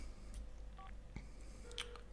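Phone keypad tones beep out a number in The Sims 4, a few short separate dialing blips, quiet over soft game background.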